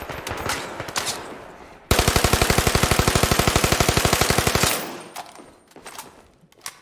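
Fast automatic bursts from a machine pistol in the shooter game Zero Caliber, a loud steady stream of rapid shots lasting about three seconds, framed by quieter ambient game sounds before and after.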